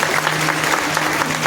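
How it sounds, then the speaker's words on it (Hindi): An audience at a Bhagwat Katha religious gathering claps steadily and evenly, with no voices, and the applause fills the whole moment. "जोरदार ताली बजाकर अभिनंदन को स्वागत करें"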